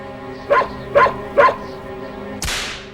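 White Fang, a dog, gives three evenly spaced loud barks close by, followed by a sharp whip crack.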